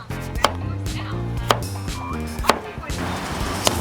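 A knife chops zucchini into big pieces on a cutting board, four sharp, evenly spaced knocks about a second apart, close and clear over faint background music.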